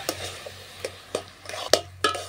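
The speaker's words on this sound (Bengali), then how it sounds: "এরপর ভালো করে সব কিছু মিশিয়ে নেব" Peanuts and filling ingredients for steamed bottle-gourd pitha being mixed by hand in a bowl, with soft irregular stirring scrapes and several sharper clinks of a utensil against the dish, close and fairly quiet.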